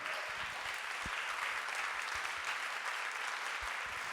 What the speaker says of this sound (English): Please give René a warm round of applause.